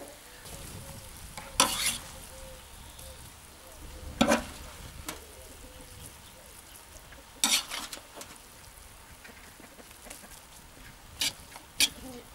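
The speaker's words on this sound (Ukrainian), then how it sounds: "Тепер треба отак кашку розпушити, щоб вона подихала повітрячком." A utensil scrapes and loosens buckwheat porridge with meat in a kazan, giving intermittent stirring scrapes and clinks at irregular intervals over a quiet background sizzle.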